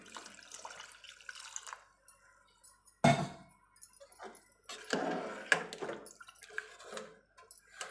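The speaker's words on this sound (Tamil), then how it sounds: "அந்த தேங்காய் பாலை வந்து இதில் ஊற்றிக்கலாம்" Coconut milk poured into a pot of moong dal payasam, soft liquid splashes and trickles with a few louder bursts, faint and close, no talking.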